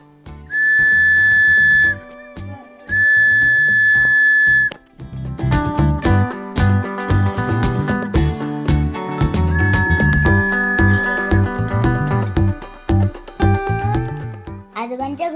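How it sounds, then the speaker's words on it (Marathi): Two long, shrill blasts from a toy whistle, each about a second and a half, followed by talking. "ह्याची शिट्टी वाजते"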